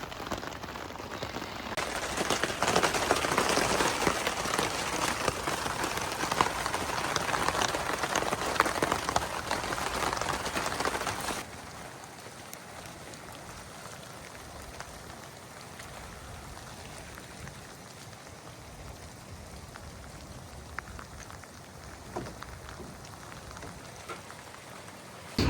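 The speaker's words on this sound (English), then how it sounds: "we woke up to this, more rain" Heavy rain pours down steadily on a tent and tarp at a wet Ozarks campsite, a dense loud hiss that drops abruptly to a quieter, softer patter of drops partway through, with no one talking.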